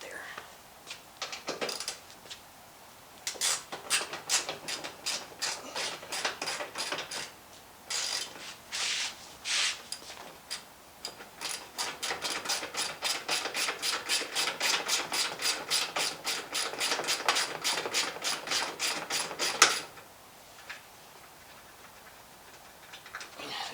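A ratchet socket wrench turns the big 10 mm bolts on an Acura Integra, with rapid rasping clicks in repeated runs, the longest a steady fast series, close and fairly quiet.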